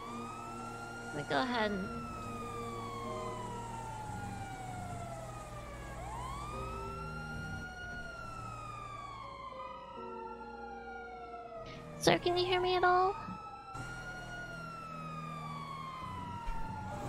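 An ambulance siren wails continuously in rising and falling sweeps from inside the vehicle, loud and steady under a voice asking a dazed man if he can hear, with brief clatters and bursts of noise breaking through.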